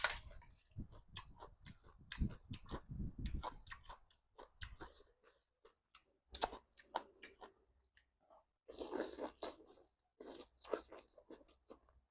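Close, crisp crunching of crispy pork rinds being chewed in bursts, with pauses between bites and soft mouth sounds.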